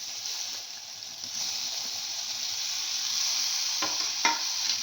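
Tomatoes fry in a pan for ginger tomato chutney with a steady, close sizzling hiss, and a few stirring scrapes land near the end; no one speaks.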